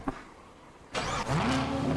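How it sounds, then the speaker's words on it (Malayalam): Car engine starting in a GTA game: a short click, then a burst of starter whine and an engine catching into a rising rev that holds steady to the end, loud and close with no talk. "സ്റ്റാർട്ടിങ് ഇങ്ങനെ ആയിരുന്നോടാ വണ്ടി സ്റ്റാർട്ട് ആവുന്ന?"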